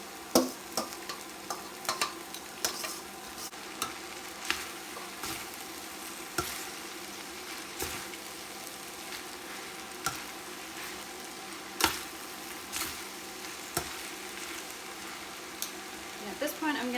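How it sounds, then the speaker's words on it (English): Noodles reheating with a vegetable mix in a pan, giving a steady low sizzle with repeated scraping and tossing clatters at an even rhythm, close by, with no talk. "Heating up the noodles. I'm going to put back my vegetable mix."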